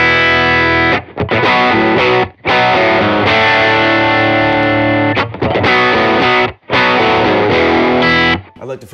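An electric guitar played through a Keeley Noble Screamer overdrive pedal chugs a loud, dense distorted riff in bursts with brief stops between phrases, close and dominant.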